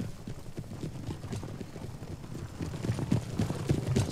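Cavalry horses gallop across an Empire: Total War battlefield, a steady low clip-clop of many hooves rumbling continuously at moderate loudness with game battle noise around it.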